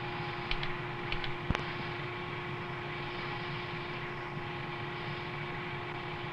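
An XV-15 tiltrotor aircraft in helicopter configuration descends and slows toward a VTOL port with a steady, droning rotor and engine hum. A few faint clicks sound near the start.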